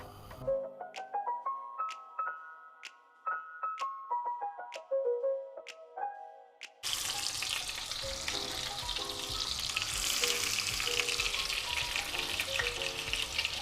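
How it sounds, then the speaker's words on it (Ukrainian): A light plucked melody plays, then cuts to loud, steady sizzling of meat frying in oil and butter in a hot pan, continuous and close. "М'яско шкварчить"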